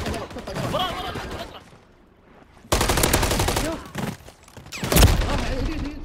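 Call of Duty gunfire rattles in dense, rapid bursts with heavy booms, loud and close, pausing briefly before resuming. A voice talks excitedly over the shooting.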